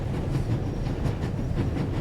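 A video game train chugs along, a steady low rumble with faint rhythmic clatter running throughout, close and continuous.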